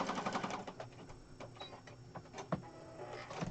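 A sewing machine stitches scraps of paper for a junk journal, a faint, steady mechanical whirring with fast ticking needle strokes close by.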